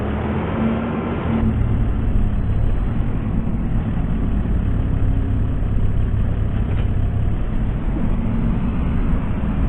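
Kubota tractor engine idling in Farming Simulator 25, a steady low mechanical rumble holding at constant loudness throughout with no talk over it.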